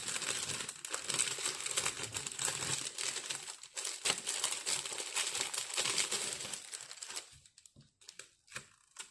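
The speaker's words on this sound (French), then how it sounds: "je vais le déballer" A plastic-wrapped AliExpress scrapbooking package being unwrapped, dense close crinkling and rustling that thins into a few scattered crackles at the end.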